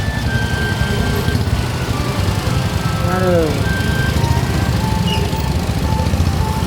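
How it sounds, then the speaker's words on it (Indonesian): Congested city street in Bogor with traffic jam noise: a steady engine rumble and hum of idling vehicles, scattered horn toots and beeps, with a brief voice exclaiming over the traffic. "Ini macet kak."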